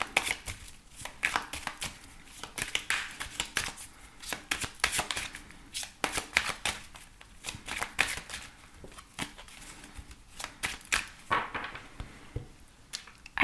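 A mirror oracle card deck is shuffled by hand in a quiet room, giving soft repeated riffling and flicking bursts that stay close and faint.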